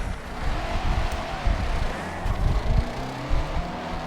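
Drift cars accelerate hard at a drift competition run on a track at Indy, engines roaring and droning at a middle distance with rising revs and surges, no talk heard.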